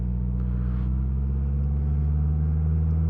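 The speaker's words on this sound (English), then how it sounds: "All right, I'm gonna pull onto the road." A 2022 Slingshot SL idles with a low, steady engine rumble, close and even, as it rolls onto the road, with no voices and no strong revving.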